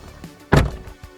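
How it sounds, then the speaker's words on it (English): A single heavy, solid thunk of a Tata Nexon car door shutting, close and loud, with faint quieter knocks before and after. "The doors shut with a solid sense of authority"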